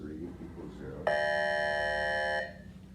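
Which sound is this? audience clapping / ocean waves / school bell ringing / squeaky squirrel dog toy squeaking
school bell ringing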